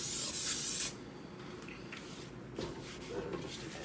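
Cooking spray hisses onto a cast iron pan being seasoned, a loud broadband burst for about a second, then quieter handling and faint clatter follow.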